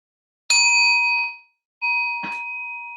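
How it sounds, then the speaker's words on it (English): Meditation bell struck twice, each strike ringing out with a clear metallic tone that decays slowly, the second strike sustaining into a long fading hum with a soft knock midway. "I will leave you here for a few seconds and then I will ring the bell."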